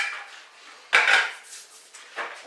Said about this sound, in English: now all I will do is to pop the fish into the bowl